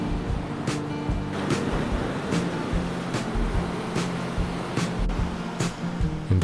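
Waves roll onto an empty stretch of Secret Beach, washing in at regular intervals over a constant surf roar, with some wind buffeting the microphone.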